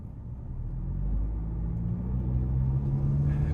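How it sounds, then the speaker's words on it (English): A 2025 Nissan Kicks SR accelerates in standard drive mode, heard from the cabin as a low engine rumble that swells and climbs steadily in pitch, moderately loud with no talking. "Now we're gonna put it into the normal drive mode or standard, and let's see how it accelerates there."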